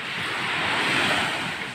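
Sea waves rolling onto the shore after morning rain, a continuous broad roar of surf with some wind noise on the microphone, no voices.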